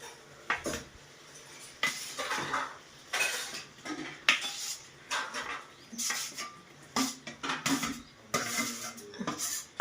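Fried prawns go into a fish gravy and get stirred in a pan, with repeated clinks and scrapes of a metal spoon against the pan in an uneven rhythm, close and fairly loud.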